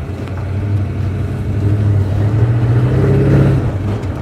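A warm 1972 Ford Ranchero 500 with a 335 hp V8 and a newer carburetor idles smoothly and steadily up close, a low even rumble with no misfires and a slight swell in revs.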